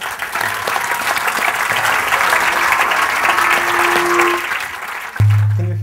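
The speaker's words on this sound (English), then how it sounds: "So let's have a round of applause for Sergio." Audience applause fills a hall at a book festival, a steady dense clapping from a seated crowd that runs for about five seconds before cutting off abruptly.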